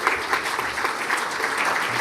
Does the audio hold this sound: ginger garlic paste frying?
no